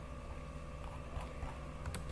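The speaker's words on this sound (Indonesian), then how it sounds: "Kita ketikkan ipconfig release" An ipconfig release command is typed on a computer keyboard as quiet, scattered clicks of keystrokes over a low room hum.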